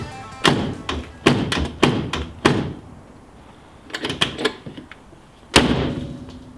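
Rusty Corvette doors thud shut repeatedly, several heavy slams in clusters with short pauses between, close and loud, with no speech.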